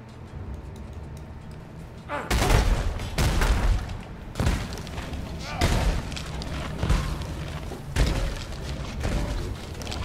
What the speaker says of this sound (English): Gotta love that corpse explosion.